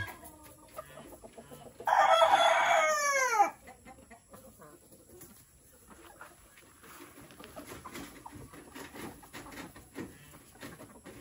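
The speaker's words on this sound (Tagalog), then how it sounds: "Ayan po yung mga manok." A rooster crows once loudly and nearby, followed by quieter clucking and scratching of chickens in the background.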